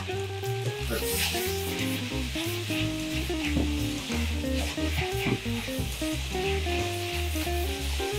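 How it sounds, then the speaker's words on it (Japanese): Carrot, napa cabbage and kujo green onion stir-fry in a hot pan for fried udon with oysters, a continuous close sizzle with occasional stirring scrapes, steady and fairly loud throughout, with no voices. "まあ、これ炒めながら火を通していきます。"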